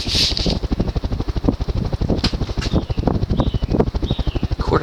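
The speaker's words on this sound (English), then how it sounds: "the fan runs at 220 RPM on high" SMC Standard Series 52-inch ceiling fan, model A52, running on high: a close, rapid rhythmic whooshing thump as the blades sweep past, steady and unbroken throughout.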